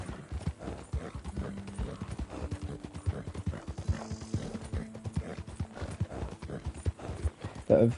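Horse hooves clip-clop at a steady trot in Red Dead Redemption 2, a continuous run of close, even beats with faint mechanical tack noise and a brief snort near the end.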